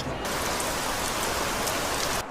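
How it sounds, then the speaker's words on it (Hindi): Steady rain pours down in a dense, even wash of noise that fills the short stretch almost from start to finish, then cuts off abruptly, with no voices. "अचानक मौसम कितना बदल गया है, बारिश ही होने लगी।"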